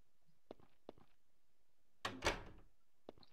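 A door in the horror video game Dark Cell, heard as a single loud creaking, banging burst after a few faint knocks, with quieter taps before and after.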